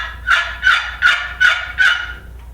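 A handheld turkey hunting call imitates a hen's cluck with five sharp, evenly spaced yelps. They are loud and close, followed by a brief tail.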